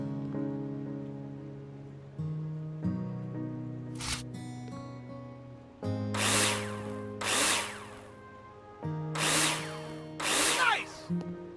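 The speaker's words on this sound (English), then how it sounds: "Take your drill out and screw them in." A power drill drives screws into plasterboard in Builder Simulator, several short whirring bursts separated by pauses, loud and close over steady background music.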